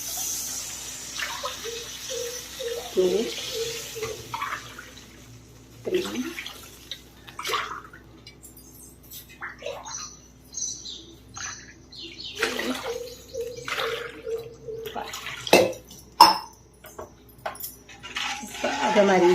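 Water poured glass by glass into a cooking pot for upma, several splashy gushes separated by pauses, heard under a voice counting and talking.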